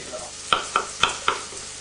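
Onions frying in a pan, with a low steady sizzle under a few sharp scraping stirs or taps spaced about a quarter second apart, close and fairly quiet, no voices.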